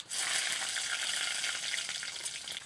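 Black cumin and slit green chilies hit hot oil with a loud, steady hiss of frying that continues evenly throughout.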